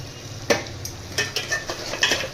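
Mutton with dry spices and salt is stirred in a pot. A spoon scrapes and clinks against the metal in a few irregular strokes over a soft sizzle, with no talking.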